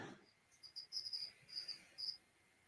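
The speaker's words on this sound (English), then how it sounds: "I've got crickets" Crickets kept as live feeder insects chirp in short, high trilling bursts, several in a row, fairly faint against a quiet room with no talking.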